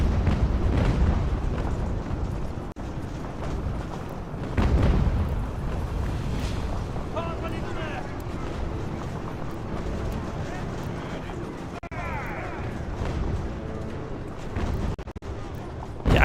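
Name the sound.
artillery and mortar fire in a video game, Ultimate General: American Revolution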